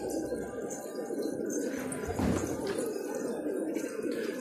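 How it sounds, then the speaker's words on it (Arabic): Pigeons coo softly and repeatedly nearby at a bird seller's in Irbid, Jordan, low throaty calls overlapping in a steady murmur with a faint rustle in the background. "جايب الحمام."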